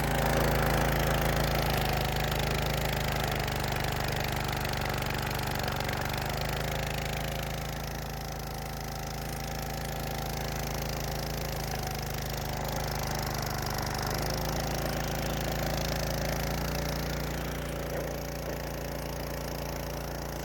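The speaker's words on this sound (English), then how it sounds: "you'll hear the change of tone in the pump" A firefighter water pump engine runs steadily while priming outdoors, a loud continuous mechanical drone whose tone shifts slightly partway through, then settles again, with no talking.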